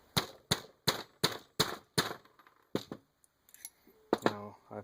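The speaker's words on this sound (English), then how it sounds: "you take your rod. That's actually what goes down inside the brass, and you just hammer it in until it's in" Sharp metallic taps of a rod hammering a primer into brass with a Lee Loader, struck in a quick, even series of about six, then a few scattered knocks and a brief clink, close by.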